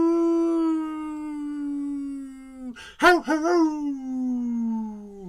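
A person imitating a wolf howling at the moon: one long, steady, tonal howl that slides down in pitch, breaks into a few short yelping wavers, then carries on, close and alone.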